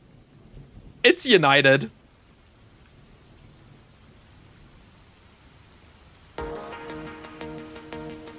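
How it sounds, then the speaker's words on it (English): Steady soft rain-and-thunderstorm ambience plays on an osu! World Cup 2024 Grand Finals showmatch broadcast, a low hiss under a brief burst of talk before music starts up. "I was just letting the rain set the ambience."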